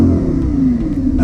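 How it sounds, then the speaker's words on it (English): Lamborghini Huracan engine revving up close, a loud, steady mid-pitched engine roar with a slight pitch shift across about a second, without talk. "He wants you to rev it."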